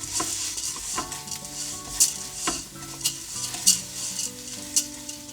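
Button mushrooms being stirred in an Instant Pot, with a soft steady sizzle under repeated scrapes and clinks of a utensil against the metal pot.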